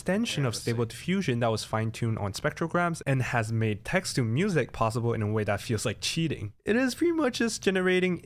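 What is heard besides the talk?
No distinct noise like a dog, phone or traffic.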